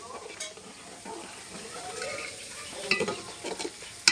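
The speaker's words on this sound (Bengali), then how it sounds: "এখানে ডাল চাল ফুটছে" Lentils and rice bubble in a pot for winter khichdi with a faint, steady simmering hiss and a few soft clinks near the end.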